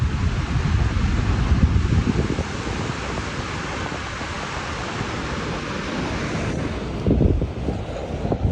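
Strong wind buffets the microphone outdoors with Chicago on the horizon, a continuous low roar rising in gusts near the start and end, with no talking.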